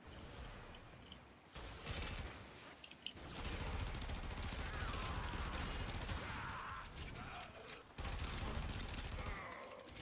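Rapid automatic gunfire from the Zenith rifle in Warframe, sustained bursts shredding enemies with short pauses between volleys, loud and close.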